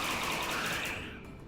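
Heavy SMG fire in RimWorld, a sustained rapid burst of automatic shots, loud and close, tapering off near the end with no voices.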